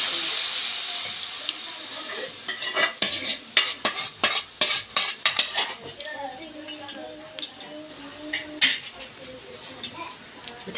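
Sauce sautéing in a pan on the stove, with a soft steady sizzle under sharp clinks and scrapes of a utensil stirring against the pan; no talk.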